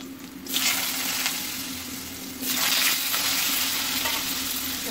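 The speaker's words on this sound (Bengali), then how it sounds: "এবার আলুগুলো ভেজে নেবো।" Potatoes fry in a pan with salt in a steady sizzle, swelling louder in two surges as they are stirred and tossed, with no voice over it.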